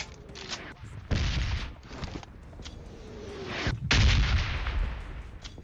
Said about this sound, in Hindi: वो और जगह से फायरिंग हो रही है, घरों से नीचे।